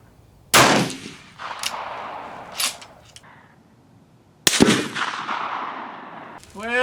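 Rifle shots at an outdoor shooting range, with two sharp loud cracks a few seconds apart that ring out and decay, plus fainter handling noise and a voice in between.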